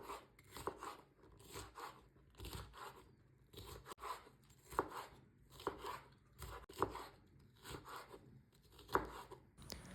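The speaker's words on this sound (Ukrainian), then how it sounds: "беру один болгарський червоний солодкий перець та нарізаю також середніми шматками" A knife chops through a red bell pepper on a board in a steady series of crunchy cuts, close and fairly quiet, with no voices.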